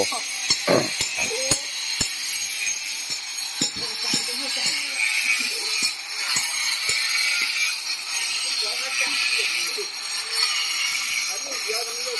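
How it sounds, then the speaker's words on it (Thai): Concrete poured at the front of a house being broken up, with scattered sharp knocks and impacts early on over steady background noise, while someone talks nearby. "ทุบปูนที่เทออกก่อนนะครับ"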